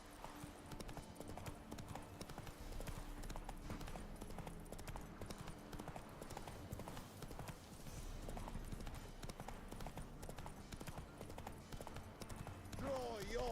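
A horse gallops in The Witcher 3 video game: continuous rapid hoofbeats run steadily at moderate volume for the whole stretch.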